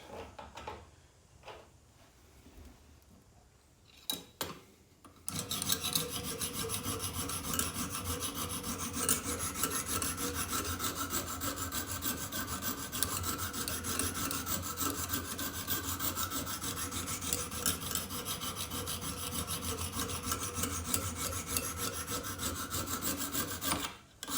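A file works nicks out of a garden shear blade during sharpening, a continuous loud metallic rasp of rapid back-and-forth strokes that runs for about twenty seconds after a few quieter handling knocks.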